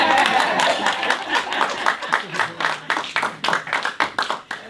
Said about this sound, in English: And y'all clap.